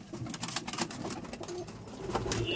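Pigeons in a loft coo softly and repeatedly, several birds overlapping in low throaty calls amid faint rustles and flutters, moderately quiet and close by.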